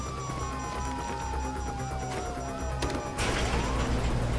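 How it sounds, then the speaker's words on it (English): Police sirens wail in GTA 5, a falling siren tone running under game sound, then a loud crash and a burst of noisy clatter near the end. "you hear that? Sirens."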